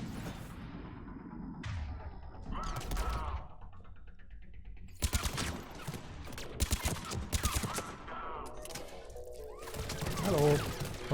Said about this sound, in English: Whoa, who's shooting at me?